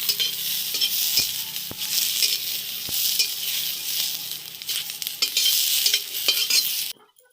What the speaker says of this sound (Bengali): রসুনটা একটু ভাজি ভাজি করে নিব।